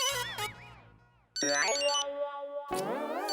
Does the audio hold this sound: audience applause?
no